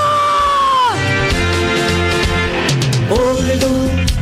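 A crowd at a rally cheering and shouting, with loud sustained yells whose pitch drops and rises again, over constant background noise.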